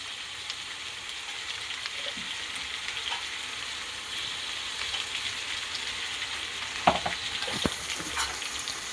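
Kantola (spiny gourd) being stirred in a pan after salt is added, giving a steady close sizzle and frying crackle with occasional scraping clicks of the spoon near the end.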